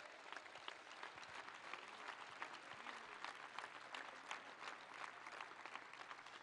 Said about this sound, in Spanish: Y yo quiero públicamente pedir un aplauso para los que hicieron ese aporte voluntario solidariamente para la Argentina.